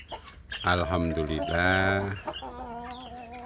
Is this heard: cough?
no